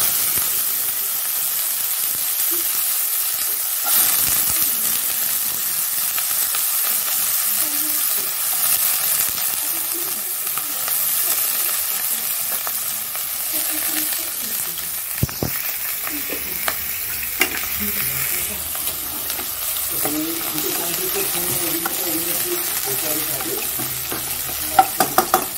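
Bitter gourd frying in oil with nigella seeds and dried chili makes a continuous bright hissing sizzle, with occasional stirring scrapes and clanks that grow busier toward the end.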